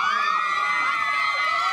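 Cheerleaders and a crowd at a West Mifflin football game cheer and shout together in a short, bright burst of high-pitched voices, loud and close.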